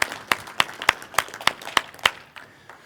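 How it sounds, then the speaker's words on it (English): Audience at a conference Q&A gives a round of applause, heard as about eight sharp, evenly spaced claps in a steady rhythm, fading out at the end. "I'm going to give a round of applause for Zach for bringing that in."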